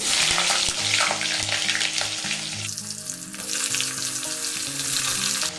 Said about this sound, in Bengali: এবার আমি তেলের মধ্যে অল্প একটু মৌরি ফোড়ন দিচ্ছি আর দিয়ে দেবো দুটো আলু